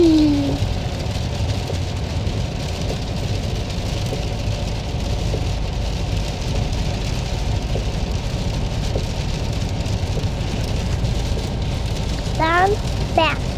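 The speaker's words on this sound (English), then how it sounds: "It's not foggy, it's rainy." Steady rain patters and hisses over the low road noise of a moving car, with brief faint voices at the start and near the end.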